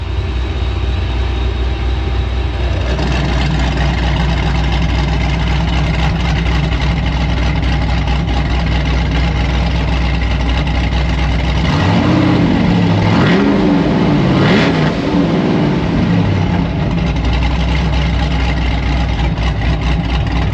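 A Pro Charged Pontiac GTO with its new exhaust cutouts open idles with a loud, deep rumble, then revs up sharply in rising and falling blips near the middle before settling back to a heavy idle.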